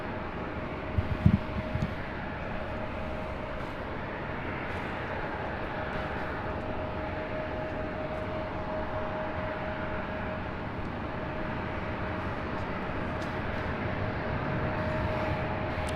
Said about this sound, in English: this flight heading to Las Vegas in this Delta A319